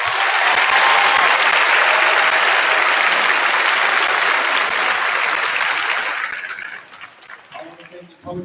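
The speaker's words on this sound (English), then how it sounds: "Please give her a round of applause." Loud, dense applause from a large audience at the opening ceremony of a 4A ASAA basketball tournament, sustained for about six seconds before thinning into scattered claps and crowd noise, with a voice faintly audible.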